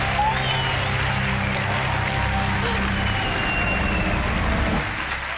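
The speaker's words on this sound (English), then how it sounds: "So please welcome me with some thundering applause." Thundering applause fills a large awards-ceremony hall at the opening of the European Film Awards, a dense, steady roar of many hands that holds for about five seconds and eases slightly at the end.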